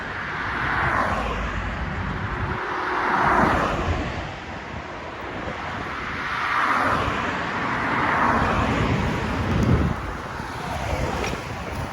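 Cars pass on a road during an evening bike ride, several broad whooshing swells that rise and fade one after another under steady wind noise.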